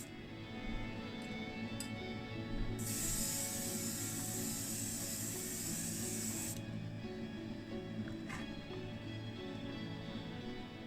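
Tamiya gold leaf spray paint hisses from an aerosol can over black primer on a Ford Mustang Boss model body, one sustained burst of about four seconds amid quiet room tone with faint clicks.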